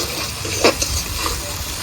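Steady hiss and crackle of spice paste frying in hot oil for a yogurt fish curry, with a brief scrape of stirring partway through, moderately close.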